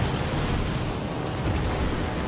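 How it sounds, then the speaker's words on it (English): HE bombs from a carrier's aircraft strike an enemy battleship in World of Warships, producing a dense, continuous roaring rumble of explosions that stays loud and broad throughout without distinct separate blasts. "take another shot at the Massachusetts with these HE bombs"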